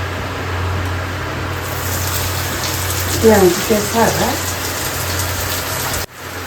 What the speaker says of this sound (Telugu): ఇగో నేనైతే ఉల్లిగడ్డ వేస్తున్నాను.